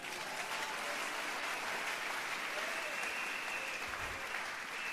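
A church congregation claps in sustained, dense applause at a New Year's Eve service, steady and moderately loud from start to finish with no voices standing out.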